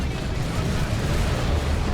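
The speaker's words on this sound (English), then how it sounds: "Those auto cannons are painful." Dense, continuous rumbling barrage of autocannon fire in a Dawn of War 2 real-time strategy battle, with overlapping booms and explosions blending into a loud, unbroken roar.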